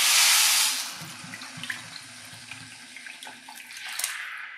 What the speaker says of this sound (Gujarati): પાણી આમાં ઉમેરવાનું.